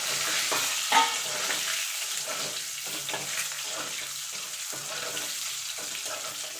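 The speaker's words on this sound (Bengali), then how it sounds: "ডিমগুলোকে লাল লাল করে ভেজে তুলে নেবো" Eggs fry in hot oil with a pinch of turmeric and salt for a dhaba-style egg curry, a continuous bright crackling sizzle with bursts of spattering and a few stirring scrapes, loud and close, without speech.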